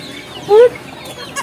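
Backyard native chickens clucking close by, one louder cluck standing out over a low background of quieter fowl sounds.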